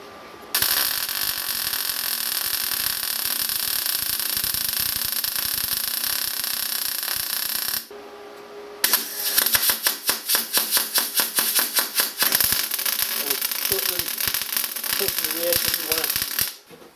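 An R-Tech Pro-MIG250 MIG welder lays weld beads on 1 mm steel plate, a close, loud crackling buzz that runs steadily, pauses briefly, then resumes with a rougher, sputtering, irregular crackle.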